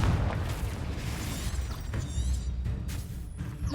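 Confringo spell blast in Hogwarts Legacy, a loud rumbling boom with crackling debris that fills the whole moment and fades slightly, with no talk.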